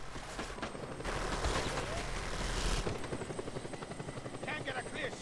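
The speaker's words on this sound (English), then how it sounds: "A chopper!" A helicopter thumps steadily in Just Cause 2, its rotor chop pulsing loud and close while bursts of gunfire crackle alongside and a voice speaks over the noise.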